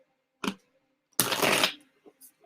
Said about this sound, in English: I'm gonna shuffle these and then pick one for Shaniqua